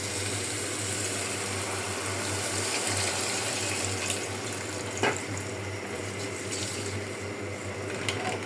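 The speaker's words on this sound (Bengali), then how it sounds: "এখন আমি পানি দিয়ে দেব।" Water poured into a cooking pot of frying rice and spices, a steady close splashing flow running throughout with one brief knock partway, no talk.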